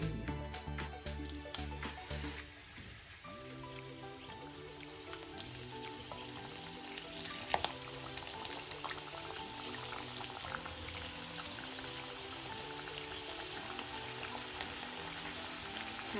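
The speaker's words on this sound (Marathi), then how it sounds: "आता आपलं तेल गरम झालंय आणि आता आपण या पापड्या तळून घेऊया." Methi papdi (fenugreek flatbread crisps) deep-frying in hot oil, a steady dense crackle and hiss like rain that holds evenly throughout after a brief louder start, with no talking.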